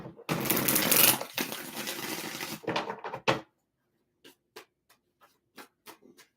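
Tarot cards being shuffled in a dense, continuous riffle and rustle, then a pause followed by a series of separate soft taps and slaps as cards are laid out one by one, close and quiet.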